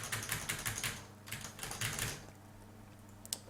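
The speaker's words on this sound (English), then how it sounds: "Just like bang your hand on the keyboard a bit, and maybe I'll fix it." Hand banging and clattering on a computer keyboard, heard as a quick burst of quiet, close key clacks that thins out toward the end with one last tap.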